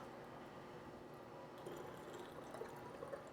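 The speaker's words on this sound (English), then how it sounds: "then we're going to pour it into this bottle." Quiet liquid trickling and gurgling as it pours, the flow growing slightly fuller toward the end, with faint small clinks.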